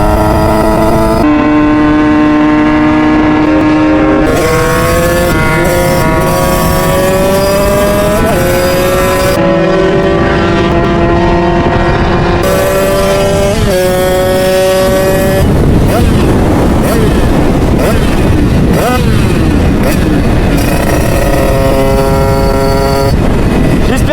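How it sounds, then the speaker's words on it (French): A motorcycle with a newly changed ignition runs loud and close, its engine rising and falling through repeated revs and gear changes, with a rougher, noisier stretch in the second half. "Il a changé son allumage, donc sa moto marche beaucoup mieux"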